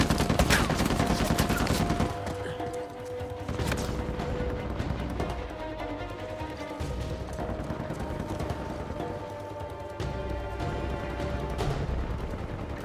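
Rapid gunfire bursts and heavy explosive shots from a firefight in the video game Uncharted 4, including a grenade launcher, fill the scene as dense, continuous combat noise that stays loud throughout with brief lulls.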